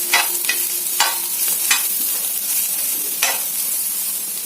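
Rice grains roast in a pan with a steady dry sizzle, broken by several sharp scraping strokes of a spoon stirring, close and alone without talk.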